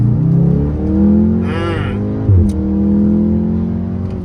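Car fitted with a Milltek exhaust with its valve flap shut, idling with a steady, fairly loud drone and rising briefly into a short rev before settling back, heard up close.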